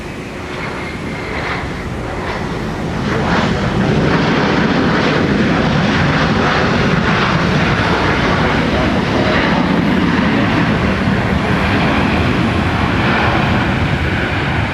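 A Sun Country airliner at Minneapolis–Saint Paul airport rumbles loudly, its engine roar building over the first few seconds and then holding as a steady, close, broadband drone.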